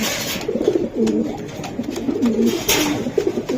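Racing pigeons coo close up in repeated low, rolling phrases over a steady hum of room noise, with a few soft clicks and rustles in between.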